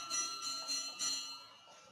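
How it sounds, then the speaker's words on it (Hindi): A kulfi ice cream vendor rings a hand bell, with about four evenly spaced metallic rings that are moderately loud and fade away at the end. "जिसको कुल्फी खाना हो खा सकता है भाई, बहुत देर से घंटी बजा रहा है।"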